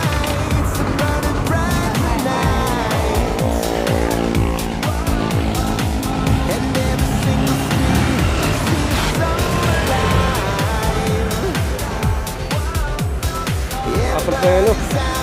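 A car driven hard during a brake test, with loud, sustained engine noise and rushing sound throughout, shifting pitch as it accelerates and slows, while people talk over it.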